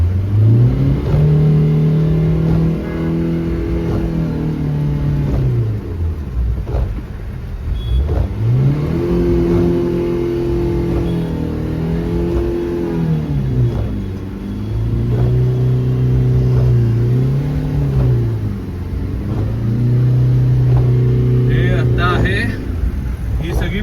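A car creeping through a flooded road in Virar during heavy rain, its engine held low with the clutch half down, droning close and loud with rising and falling revs and a faint wash of water, while someone talks over it.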